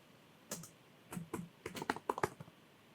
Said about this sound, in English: It's what I'm typing up right now.